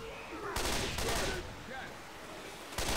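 Bursts of automatic gunfire in Left 4 Dead 2, rapid rattling volleys starting and stopping, fairly loud with game ambience between, no talk.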